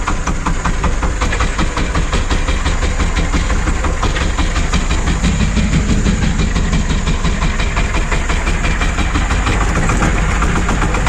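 A universal motor cultivator fitted with hedgehog weeders roars loud and steady in fourth gear while hilling potatoes, its engine chugging with a dense mechanical rattle throughout.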